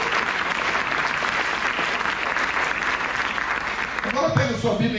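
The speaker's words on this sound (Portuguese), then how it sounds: "uma forte salva de palmas para Ele" Congregation applauding at a Christian church service, a steady dense wash of clapping from many hands throughout, with a voice breaking through near the end.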